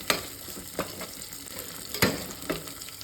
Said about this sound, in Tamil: வெங்காயம் பொரியட்டும்.